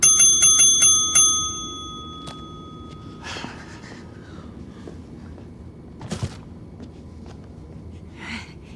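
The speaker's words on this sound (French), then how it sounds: "Si j'entends encore une seule fois cette sonnette" A bicycle bell rings in a quick burst of bright, repeated dings, followed by quieter background clatter and a few faint knocks.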